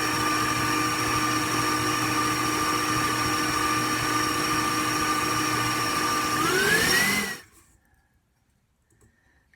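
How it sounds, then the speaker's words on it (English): Butter and brown sugar being beaten together for butter tarts with a steady, whirring motor hum and faint rattling clicks; the pitch rises briefly before the machine cuts off, leaving near silence. "Just mix that until it's well combined."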